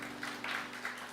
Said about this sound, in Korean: 우리 예배를 받으시기에 합당하신 하나님께 이 시간에 감사의 박수